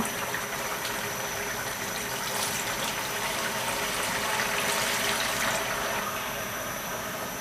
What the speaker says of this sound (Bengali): এখন আমি এতে পানি দিয়ে দিব।